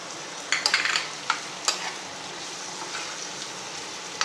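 Spicy chicken liver fry is stirred in a pan, giving a steady close sizzle with a few sharp scraping clinks of the spoon early on, then continuous crackling frying.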